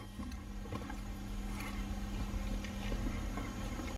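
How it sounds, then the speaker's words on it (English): An electric ATTESA bleeding pump on a Nissan R32 Skyline GTR runs as a steady, faint, continuous mechanical hum with a constant drone and no talking. "now you can hear the pump running"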